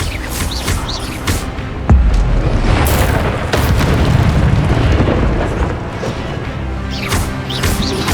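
A spell burst in the Hogwarts Legacy video game lands as a loud booming blast, with dense crashing combat effects and clattering debris rumbling around it throughout.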